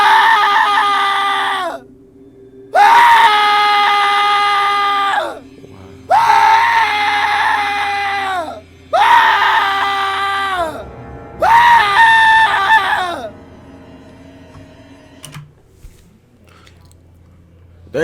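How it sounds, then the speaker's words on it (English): A person lets out five long, loud, close-up screams in a row, each held for a couple of seconds and separated by brief silences, before quieter noise at the end. "how many times are you gonna scream in my ear?"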